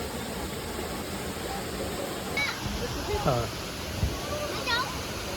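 A year-round waterfall in Netravali Wildlife Sanctuary, Goa, roars as a constant broad rush of falling water close by, while people talk briefly over it.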